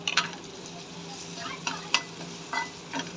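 Shredded cabbage with turmeric is stir-fried in a pan, giving a soft background sizzle broken by several short spatula scrapes and taps against the metal; no one speaks.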